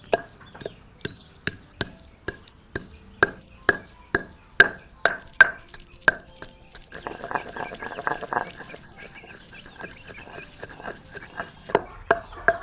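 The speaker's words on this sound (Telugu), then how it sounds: "ముందుగా మసాలా నూరి పెట్టుకుందాం. గసగసాలు, కొబ్బరి, అల్లము. మసాలా దంచుకోవాలి." A hand pestle pounds poppy seeds, coconut and ginger into masala, striking in a steady rhythm of sharp, close thuds about twice a second, then shifting to softer, irregular grinding and scraping.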